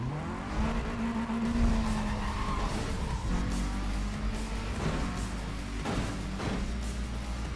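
Engines rev and tires squeal as a car race gets underway in Need for Speed World, a steady loud roar of cars accelerating with a skidding edge throughout.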